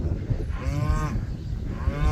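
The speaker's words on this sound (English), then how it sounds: "I just moved a few of the cows that calved late into this area" Several cows that calved late low and moo in a small grass pasture, with long harmonic calls rising and falling near the listener over steady outdoor background noise.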